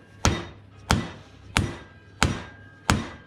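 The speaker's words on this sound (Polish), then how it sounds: "trzeba lekko pukać młotkiem lekko to idzie" Light hammer blows driving bushings into the hitch mounts of an Ursus C360 4x4 turbo tractor: five sharp, evenly spaced taps with brief ringing decay, close and alone without talk.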